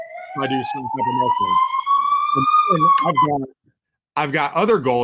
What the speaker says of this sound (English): There's an ambulance there in the background.